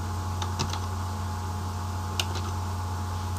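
Keystrokes on a computer keyboard while code is entered in Java Eclipse, a few close, light clicks scattered over a steady hum, with a small burst near the start and another later.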